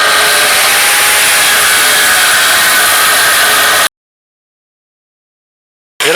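A new angle grinder cuts through a piece of metal with a loud, steady, high-pitched whine for about four seconds, then stops abruptly, leaving silence before the grinder starts again at the very end.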